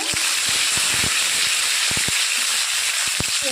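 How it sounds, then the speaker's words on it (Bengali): Mustard seeds frying in a little oil for a Bengali shrimp dish give a loud, dense hiss, with frequent sharp pops and crackles through it, no voices. "এই সর্ষেটা যখন একটু ভাজা ভাজা হয়ে যাবে"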